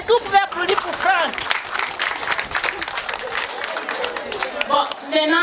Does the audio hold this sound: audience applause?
yes